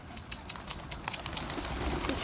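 Mardin tumbler pigeons coo softly and repeatedly, a series of short, evenly spaced calls close by against light background noise, with no talk.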